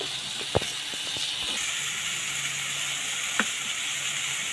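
Mango pieces fry in hot oil with Kashmiri chili for a sweet mango pickle: a steady, close hiss of sizzling with a few sharp scrapes and taps of stirring, and no talk.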